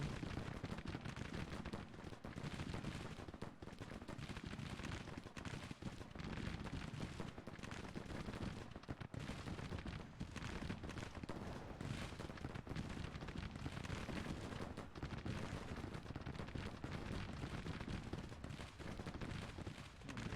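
Dense musket volleys and artillery fire from a Civil War battle in the strategy game Grand Tactician: The Civil War, a continuous, loud crackle with low booms throughout, with no speech over it.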